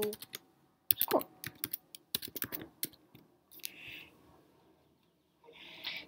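Close typing on a computer keyboard in quick irregular bursts of sharp clicks and taps with short pauses between, and a few softer scraping sounds near the end.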